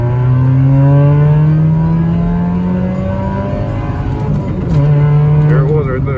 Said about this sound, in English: This will be 0 to 60, and I'm going to try not to spin and let the clutch out decently